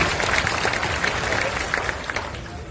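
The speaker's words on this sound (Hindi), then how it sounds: "अपने लिए जोरदार ताली बजाइए।" Audience applause at a Hindi talk on becoming self-reliant through social media, a steady moderately loud wash of clapping that tapers slightly toward the end.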